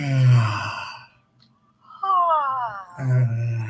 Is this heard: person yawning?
yes